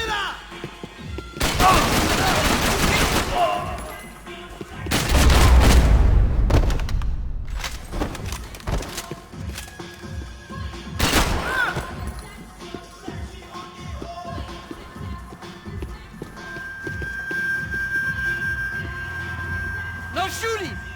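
Bursts of gunfire in the Max Payne 3 video game crack out in several separate volleys. Voices shout over and between the shots in a tense firefight.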